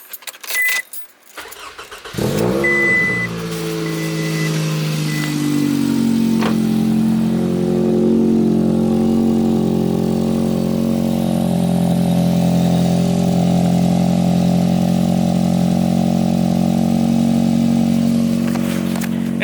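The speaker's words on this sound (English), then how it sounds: "I'll turn the car on right now" A Scion tC engine starts after a brief jangle, then settles into a steady, deep cold idle with a throaty rumble from a 3-inch exhaust, close and continuous.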